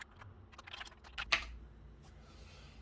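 Soft, rapid clicks of keys pressed on a Commodore Plus/4 home computer keyboard, a quiet irregular burst of typing with one sharper keystroke near the middle, close up with no voices.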